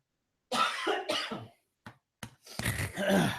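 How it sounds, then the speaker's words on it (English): A single person gives a few short, sharp coughs close to a microphone, separated by brief pauses and ending in a longer throat-clearing burst, with no talk alongside. "I'm about to give a quick cough here."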